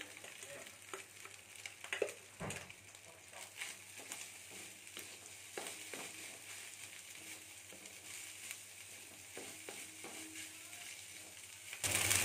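Rice stir-fried in a hot pan for simple Indonesian nasi goreng, giving a steady sizzle with scraping and clattering of the spatula against the pan throughout, close and continuous, with no talking.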